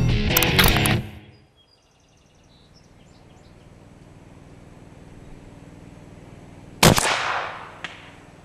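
One sharp, loud shot from a big-bore air rifle firing a round nose bullet outdoors, a quick crack that fades fast into quiet ambience, and a second short crack comes several seconds later.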